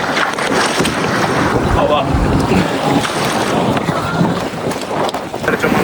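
Jet ski running out over sea waves toward a festival area, heard as a continuous rushing roar of water and wind buffeting the microphone, loud and close throughout with no clear speech.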